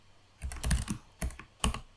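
Close computer keyboard typing while code is entered, heard as a quick cluster of clicky keystrokes followed by two separate single taps.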